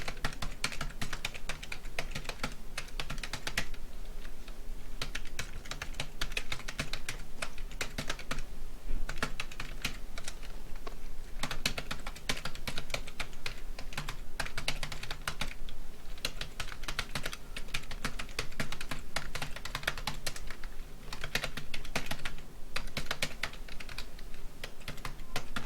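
Steady computer keyboard typing while code is written in Visual Basic, rapid uneven keystrokes running continuously and close up for the whole stretch, with no talking.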